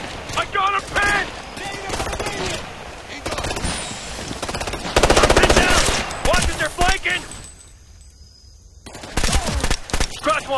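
Light machine gun fire in the video game Ghost Recon Future Soldier, loud rapid bursts of automatic shots over a few seconds, mixed with shouted voices and a brief quieter lull.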